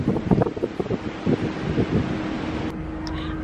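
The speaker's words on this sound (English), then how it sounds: "So it is windy out" Outdoor wind buffets the microphone in an urban cottage-style garden, a loud, gusty rumble that settles into a steadier rush near the end.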